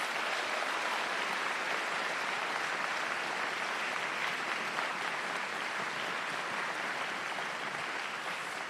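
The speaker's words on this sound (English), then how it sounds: "Let's give those directors a round of applause" An audience applauds band directors at a county high school band event, a steady, even wash of many hands clapping that continues throughout without talk.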